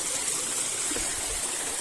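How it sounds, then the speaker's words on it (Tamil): Steady broadband rush of Rama Falls waterfall in the Kalvarayan hills, clear water pouring continuously, close and fairly loud with no talk. "இதோ தெரியுதுல, இதுதாங்க அந்த ஃபால்ஸ், ராமா ஃபால்ஸ்."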